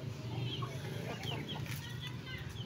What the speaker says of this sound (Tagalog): Oh, manok.